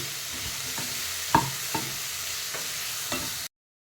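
Half a spoon each of coriander and cumin powder frying in a pan for a cauliflower fry, a soft steady sizzle broken by several sharp spoon scrapes and taps as the spices are stirred, with no talking.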